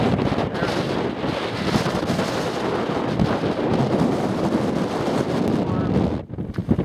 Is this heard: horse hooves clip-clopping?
no